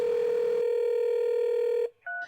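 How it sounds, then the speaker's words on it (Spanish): A telephone tone holds steady for almost two seconds, then cuts off and gives way to a short, clear touch-tone DTMF beep, close and isolated with no voices. "Los familiares de Valentina no paraban de marcarle al teléfono"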